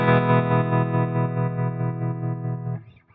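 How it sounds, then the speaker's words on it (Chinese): A JAM pedals Harmonious Monk tremolo effect on its square-wave setting chops a sustained guitar tone into steady, hard-edged pulses for nearly three seconds, then quickly fades away; no one speaks. "那波到上面呢是一个方形，它的声音可能会有一些锯齿状，更加的刺激一点。"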